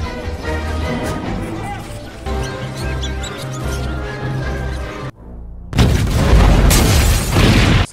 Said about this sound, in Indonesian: bom pun meledak dan berhasil memporak-porandakan tempat tersebut